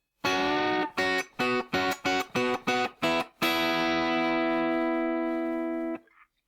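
Electric guitar playing a short passage from a song: a run of eight crisp, evenly spaced picked double-stops, then one long sustained chord ringing for over two seconds before fading out, close and alone.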